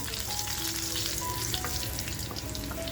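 Garlic and turmeric frying in hot oil for garlic spinach prawns, a dense, steady crackling sizzle heard up close throughout with tiny pops, no speech.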